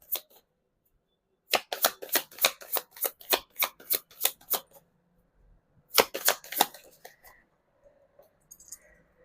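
Tarot cards are shuffled by hand in quick bursts of soft, crisp riffles, a run of about a dozen slaps followed by a second shorter flurry and a few light clicks as cards are laid down, close and fairly quiet.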